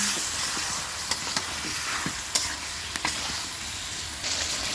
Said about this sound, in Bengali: ঢাকনা উঠিয়ে দিব, একটু লাড়া দিয়ে দেব